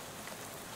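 Game rain from Shadows over Loathing, a faint, even hiss of falling drops that holds steady throughout, with no voices.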